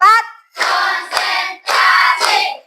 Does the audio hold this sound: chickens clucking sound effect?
no